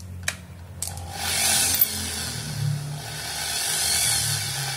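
A Maktec electric drill for drilling iron clicks on and then whirs with a steady, moderately loud motor hum that wavers slightly as pressure is applied.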